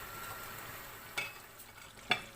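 Spices for a chicken biryani are tipped into a hot frying pan and stirred, a soft continuous sizzle broken by two sharp scraping knocks of the spoon against the pan.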